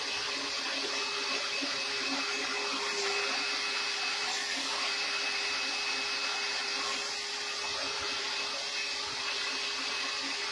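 Hair dryer on low heat blowing onto a beard, a steady close airy whoosh with a constant motor whine lasting the whole stretch, no voices.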